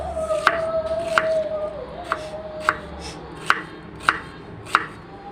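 A large, pungent onion being chopped with a knife in a home kitchen: about seven crisp, evenly spaced chops over a steady low background hum, with no talking.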